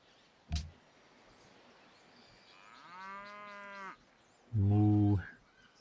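A cow moos twice in a video game, a long drawn-out low call followed by a louder, shorter one, after a brief thump near the start.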